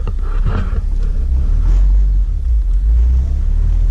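A tuned Honda Civic Si engine revs with an aggressive throttle, a loud continuous low roar that swells and surges close to the microphone with a brief rise early on.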